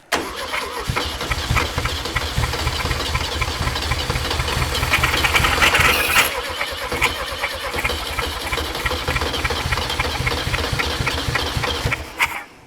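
A 1500 air-cooled VW Beetle engine left unstarted for 50 years cranks and catches in a rough, knocking run, chugging loudly and unevenly up close, swelling mid-way, then cutting out abruptly at the end; no one speaks.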